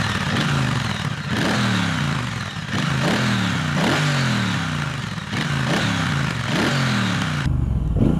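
A 2021 Triumph Speedmaster cruiser engine revs repeatedly at close range, a deep throaty idle rising in several sharp blips and falling back in a steady rhythm, with no talk over it.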